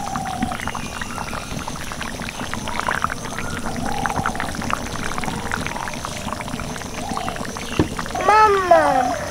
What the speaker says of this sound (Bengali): এবার আমি মাংসটাকে 10 মিনিটের জন্য ভালো করে সিদ্ধ করে নেব